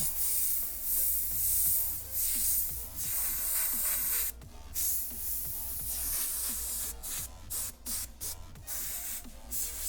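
Steady airbrush hiss sprays Createx Wicked white paint onto a shirt, with brief pauses and quick on-off cuts toward the end.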